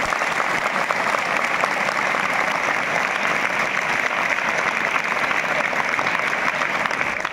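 A large audience at a motivational talk breaks into sustained, dense applause, loud and steady for several seconds rather than a single clap.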